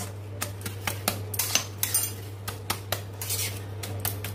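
A banana flower curry is stirred in a metal pan after ghee is added, giving a steady run of sharp spoon scrapes and clinks against the pan over a low constant hum, close and without talk.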